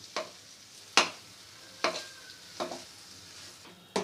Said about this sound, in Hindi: खोए को थोड़ा नरम कर लेंगे घी में अच्छे से